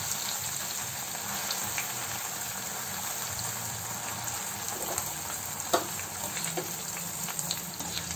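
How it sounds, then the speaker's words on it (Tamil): Bread deep frying in hot oil over a high flame for vegetable biryani, a steady dense sizzle and crackle throughout with a few sharper pops, no talking. "மீன்வைல் நம்மளோட பிரெட்டை டீப் ஃப்ரை பண்ணி எடுத்துக்கலாம்"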